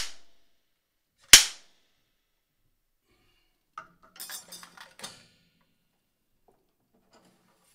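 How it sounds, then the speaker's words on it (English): A vintage 1920s Ludwig wooden slapstick gives one sharp, loud crack in a quiet room, followed by faint rattling and handling clatter. "Well, the slapstick is this right here. It's Ludwig slapstick, probably from the 20s."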